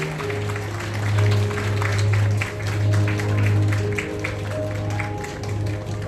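Wedding guests give a steady round of applause as the newlyweds step onto the stage, the clapping held at an even level and blended with sustained music underneath.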